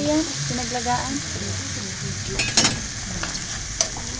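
Ingredients with chili powder and a little broth stir-fried in a pan, a steady close sizzle with scraping stirs and a couple of sharper clinks, while a voice talks quietly underneath.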